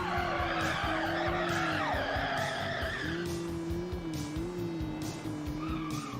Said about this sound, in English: We're going to go full handbrakies around all corners now and try to get this thing to drift as much as possible